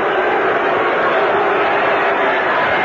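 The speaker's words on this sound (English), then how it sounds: "Fans getting impatient. They're booing." A baseball crowd at a cold-day Cubs at Expos game booing, a broad steady roar of disapproval filling the stadium, distant and diffuse, heard through an old radio broadcast.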